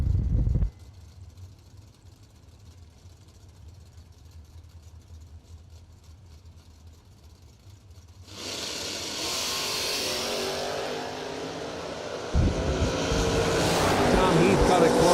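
Drag race cars, an S10 and a Chevy 2, launch at a Christmas bracket race. Quiet idling gives way to a loud, sustained roar from about halfway through, which builds further near the end.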